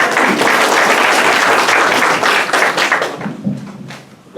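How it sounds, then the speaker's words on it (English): An audience at a candidates night gives loud, dense applause that holds steady for about three seconds, then thins and fades with a few scattered claps at the end. "Give yourselves a clap."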